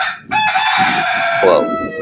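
A Singapore rooster crows loudly and close by on a small farm, one full harmonic crow running nearly two seconds, with faint clucking from other fowl beneath it.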